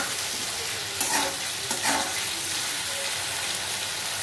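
Chopped onion frying in a pan for an egg curry, a steady close sizzle with a few brief stirring scrapes and spatters, no voices.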